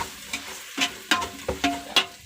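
Tomatoes cooking in a pan for prawn curry, a low sizzle punctuated by several quick spoon scrapes and taps in an uneven rhythm, close by and moderately quiet.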